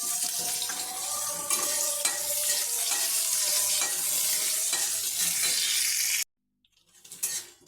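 Chili and onion fry in hot oil with a dense, continuous sizzle that is loud and close, marked by occasional stirring scrapes, then stops abruptly before a brief faint sizzle returns.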